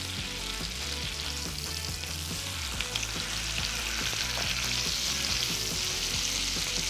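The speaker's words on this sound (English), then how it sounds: "You have to make sure the ends are seared as well." Coffee chipotle-rubbed pork tenderloin sears in hot oil, a loud, dense, unbroken sizzle heard up close with a low steady hum underneath.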